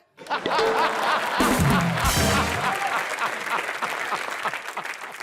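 Audience applause breaks out in a studio comedy show set as a mock airline, a loud sustained burst of clapping with a few chuckles mixed in, lasting several seconds.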